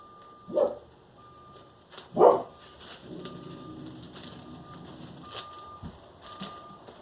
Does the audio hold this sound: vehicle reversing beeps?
yes